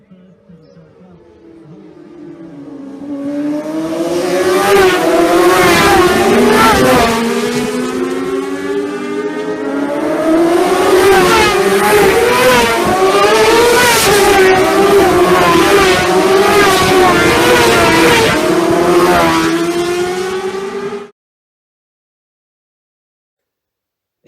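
Isle of Man TT racing motorcycles howl past at high revs, the engine note rising and falling through gear changes as they approach and pull away, loud and close, before cutting off abruptly.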